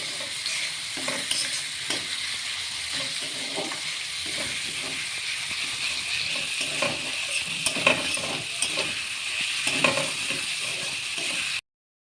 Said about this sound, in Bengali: লাল করে ভালো করে ভেজে নিতে হবে, ব্রাউন কালার হওয়া পর্যন্ত একটু অপেক্ষা করতে হবে